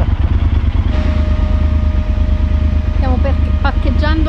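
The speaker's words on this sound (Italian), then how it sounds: "parcheggiando la nostra moto." A Yamaha Super Ténéré motorcycle idles with a steady, close low rumble while being parked, and voices come in over the engine near the end.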